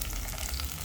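Plantain slices frying and being stirred in a pan, a steady close sizzle of hot oil with no talk.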